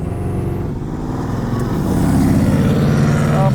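A 1967 Chevrolet Camaro RS/SS 383 restomod rumbles along at daytime driving speed, its V8 droning loud and steady from inside the car and swelling as it picks up throttle.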